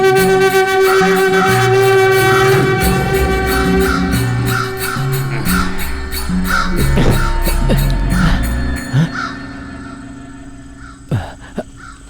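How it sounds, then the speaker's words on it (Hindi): A crow caws loudly and repeatedly, harsh calls coming in a steady series over a constant background hum, with no talking. "उस रोज पूरी रात कौवा काव काव कर रहा था"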